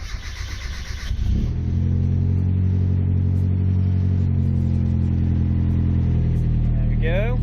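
A Mazda MX5 fitted with a push-button start ignition mod cranks briefly, and after about a second the engine catches. It then settles into a steady, close, rumbling idle, with a short chirp near the end.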